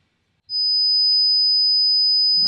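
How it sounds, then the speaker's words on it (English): A high-pitched 5000 hertz sine tone switches on suddenly and sustains evenly for about two seconds with nothing else around it. "This one is 5000 hertz."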